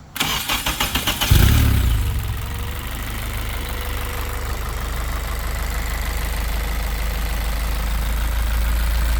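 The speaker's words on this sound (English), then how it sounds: "Cars and Bids suggested a cold start, so we'll flick the switch," An Exocet car cold-starts: a few quick cranking pulses, then the engine catches with a loud burst and settles into a steady, even idle that continues close by with no talking.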